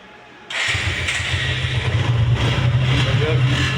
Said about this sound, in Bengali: ইঞ্জিন সাউন্ডটা আমরা দেখে নিই